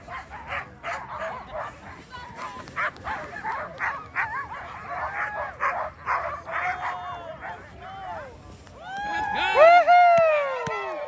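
Iditarod sled dogs at the 2023 race start bark and yip excitedly in an overlapping chorus, with people talking nearby, then break into louder, close, high-pitched whining yelps near the end.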